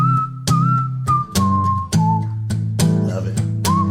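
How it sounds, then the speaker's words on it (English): A tune is whistled over a steady, looping country backing beat, with clear melodic whistle notes sliding across several phrases close to the mic at moderate loudness. "There's a little bit of whistling."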